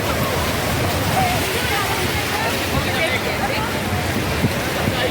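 Sea waves wash in continuously around the Bhidbhanjan temple at Prabhas Patan, a steady broadband surf roar with wind across the whole stretch.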